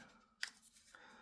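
Scissors cutting paper for a junk journal, a single sharp snip followed by a softer second cut, close and quiet in a calm room.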